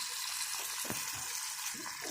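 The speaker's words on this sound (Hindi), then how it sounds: "अब इसमें पानी ऐड करने लगी हूँ जो कि आलू को भी गलाएगा" Water poured into a pot of potatoes and spices for an aloo gosht chicken shorba, a steady hissing, splashing pour that runs close and continuous, with no talking.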